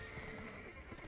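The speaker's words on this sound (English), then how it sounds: "Let's see if I can keep my horse up here and not get him attacked." A horse in the online game Black Desert Online gives a short whinny, heard faintly behind a steady wash of game noise.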